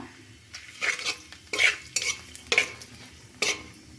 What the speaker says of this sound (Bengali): পাঁচফোড়ন ভাজা হয়ে গেছে